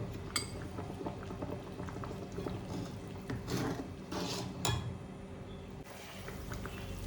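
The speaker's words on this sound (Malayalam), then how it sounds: "ഇപ്പോൾ നന്നായി തിളച്ചിട്ടുണ്ട്" Tomato soup bubbling at a boil in a cooking pot, a steady low simmer with occasional brief clinks of a utensil against metal, close and fairly quiet, no talking.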